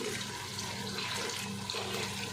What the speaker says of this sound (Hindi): 1 गिलास पानी का मैं डाल देती हूँ।